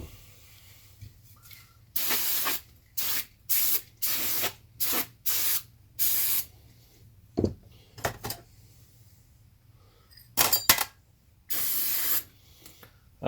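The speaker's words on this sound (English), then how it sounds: "blow some air through this, clean it with some carb cleaner" A generator carburetor being cleaned in a series of sharp, loud spray bursts of carb cleaner and compressed air, each lasting about half a second to a second, separated by brief quiet gaps.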